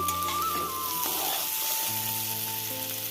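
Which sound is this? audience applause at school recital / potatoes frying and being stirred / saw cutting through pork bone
potatoes frying and being stirred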